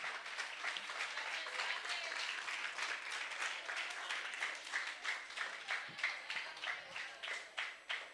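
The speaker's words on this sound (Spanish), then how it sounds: "Un aplauso para nuestros docentes acompañantes," A school event audience applauds the accompanying teachers with a dense, steady clapping that fills most of the time and then thins into separate, fading claps near the end.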